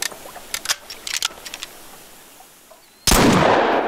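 Gunfire in the hunting video game theHunter: Call of the Wild at Layton Lake: a cluster of sharp reports early on, then a quiet stretch, then a sudden loud sustained blast that fills the end.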